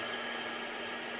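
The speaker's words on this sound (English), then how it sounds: "Let me just blast that with the heat gun," A steady, loud rush of blown air with a constant whine, unbroken for the whole moment.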